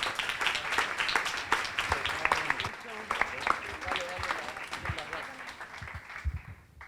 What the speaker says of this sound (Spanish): Un aplauso al CCB.